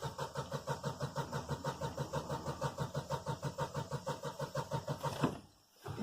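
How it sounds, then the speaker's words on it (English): A car engine cranking on the starter with the accelerator pressed fully to the floor, a steady rhythmic chugging of even compression pulses for about five seconds, close and loud, before it cuts off abruptly. "I'm going to crank the car with my foot all the way down on the accelerator."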